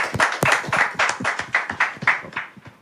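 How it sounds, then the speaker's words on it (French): An audience at a Martinique night show breaks into brief, scattered hand clapping, a dozen or so distinct claps in an uneven rhythm, moderately loud and close. "un petit applaudissement pour la forme."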